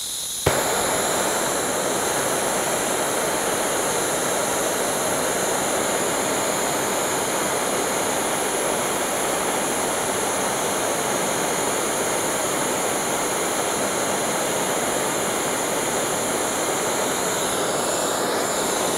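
Torch flame roaring steadily while firing enamel on copper, a loud continuous broadband rush that starts abruptly and holds unbroken, no voices.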